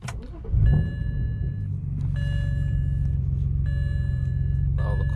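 A BMW E90 335i with the N54 engine starts up: a short crank and catch, then a steady low idle rumble while dashboard warning chimes beep repeatedly.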